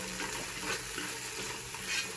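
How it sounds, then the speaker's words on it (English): Vegetables fry in oil in a pan before spinach goes in, giving a steady close sizzle with faint stirring scrapes throughout, no talking. "Let me add a little more oil. Let it fry a bit before I add my spinach."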